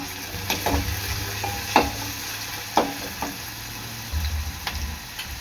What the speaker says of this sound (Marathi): आपला कांदा आहे ना चांगला लाल होईपर्यंत शिजवून घ्यायचा आहे।